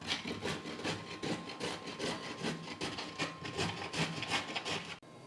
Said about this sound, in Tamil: அந்த மாதிரி காய் துருவல் எடுத்துக்கிட்டு இந்த மாங்காவை துருவி எடுத்துக்கலாம்.